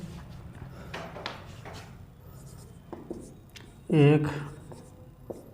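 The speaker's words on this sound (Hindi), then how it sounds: "जैसे दोस्तों मैं कोई क्वेश्चन लिख दूं" Chalk or marker writing a question on a board during a classroom lesson, producing brief scratchy strokes under a man's speech.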